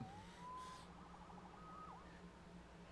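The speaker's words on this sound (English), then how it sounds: "Saved by the siren." Police siren in the Marvel's Spider-Man video game, a faint wailing tone that rises and swoops against a steady background hum, with no talking.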